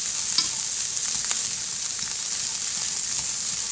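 Carrots stir-fry in an oiled pan for Cantonese fried rice, a close, continuous sizzle with a few sharp scraping and tossing clicks over it.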